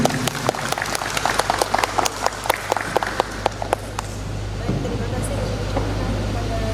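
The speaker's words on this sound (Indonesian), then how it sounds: "Tepuk tangan untuk ketiga regu." An audience at a provincial Qur'an quiz competition gives three teams brief, scattered applause that fades after a few seconds, leaving a steady room hum.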